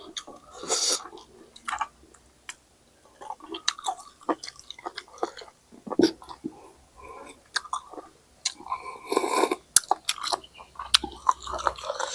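Large golden apple snails with seafood dipping sauce being chewed up close, with loud wet crunching and biting in irregular bursts and brief pauses between mouthfuls.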